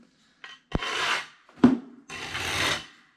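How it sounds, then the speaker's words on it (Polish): A loosely bonded ceramic tile scrapes and rubs against a wall during an adhesive and waterproofing test, giving several close, raspy gritty strokes with short pauses and a couple of sharp knocks between them. "płyteczka sobie szura o ścianę."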